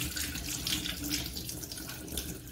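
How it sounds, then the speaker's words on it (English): A pineapple being washed under a running kitchen tap, with a steady, continuous splash of water into a sink that stays even and fairly close throughout, with no talking. "washing our pineapple and making sure that it is nice and clean for us to use"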